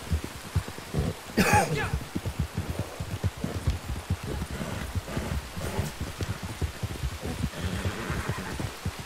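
Heavy rain pattering steadily on a hard surface nearby, a dense drumming with a few brief louder knocks.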